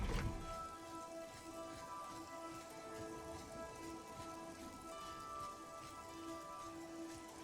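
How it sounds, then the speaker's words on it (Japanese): Steady rain patters through a stormy outdoor scene in the video game Oblivion, a continuous even wash of drops with a faint tonal ambience beneath and no talking. "風が強い。 雨も降ってる。"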